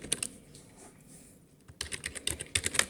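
Quick bursts of keystrokes on a computer keyboard while entering Java code, a short quiet pause and then faster, louder clustered typing near the microphone.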